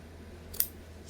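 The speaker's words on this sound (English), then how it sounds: "I take my scissors and I put the tip just" Scissors snipping into fabric just short of the stitching on a kitchen towel craft, a single quick close cut near the mic in a quiet room.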